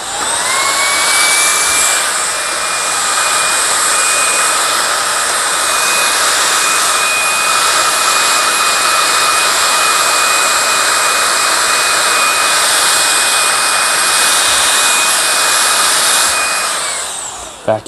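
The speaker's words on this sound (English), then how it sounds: "vacuum all that hair off." A loud, steady whine of a Bissell PowerGlide Pet vacuum cleaner running continuously for many seconds, high-pitched and close, with no voices.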